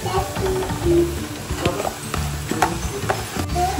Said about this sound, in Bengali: পেঁয়াজটা হালকা এরকম ভাজা ভাজা হয়ে গেছে, এখন মাশরুমটা এর মধ্যে দিয়ে দেওয়া হবে